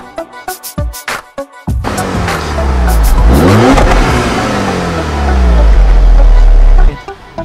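Car engine in the LittleBigPlanet video game revving loudly from the exhaust, with a few sharp blips and then a sustained roaring rev that rises and falls before cutting off abruptly.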